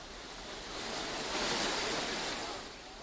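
The flooded Beas River rushes in a broad, steady roar of churning water that swells louder in the middle and then eases slightly.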